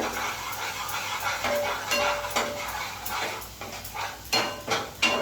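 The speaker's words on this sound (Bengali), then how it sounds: "এবারে দেখুন একটু নাড়াচাড়া করে" Curry for Bengali doi rui, rohu fish in yogurt, being stirred in a pan, with clinks and scrapes of a utensil against metal over a soft steady sizzle, growing sharper and more frequent toward the end.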